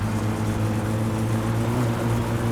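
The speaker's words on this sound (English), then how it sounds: "Just snap the exhaust off, that's what you're hearing." A car engine in the My Summer Car video game roars with its exhaust snapped off, a loud, steady, droning rumble heard alone and unbroken throughout.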